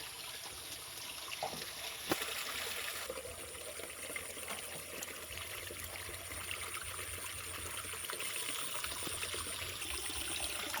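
Stream water flowing near a bamboo pipe irrigation setup, a steady gentle trickling and gurgling wash with a few small knocks, close and moderately quiet.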